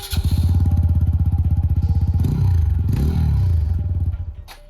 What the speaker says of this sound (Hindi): अगर बात करें अबाउट दी एग्जॉस्ट नोट,